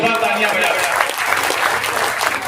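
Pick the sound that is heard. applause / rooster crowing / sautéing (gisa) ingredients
applause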